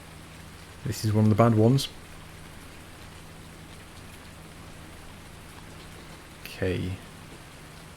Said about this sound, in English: There's only been a few days on FS where it has actually rained all day.